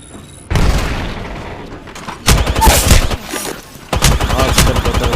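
Grenade blast and bursts of automatic gunfire in an Apex Legends ranked match: a sudden loud boom, then rapid rattling volleys that recur in heavy waves, with faint voices underneath.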